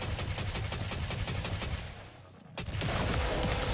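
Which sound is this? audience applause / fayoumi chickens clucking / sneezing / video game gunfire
video game gunfire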